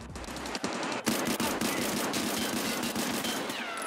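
Rapid, continuous automatic gunfire from a no-recoil gun in Escape from Tarkov Arena, dense bursts of close, loud shots packed tightly across the whole stretch.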